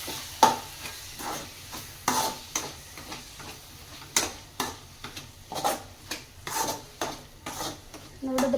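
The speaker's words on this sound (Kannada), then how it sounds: "ಇವಾಗ ಇಷ್ಟನ್ನು ಹಾಕಿ ಮಿಕ್ಸ್ ಮಾಡ್ಕೊಳ್ತಾ ಇದ್ದೀನಿ" A spatula stirs turmeric, coriander powder and salt into a bitter gourd (karela) curry with mashed tomato in a pan: rhythmic scraping strokes and light clanks repeat about once a second over a soft sizzle, close and without speech.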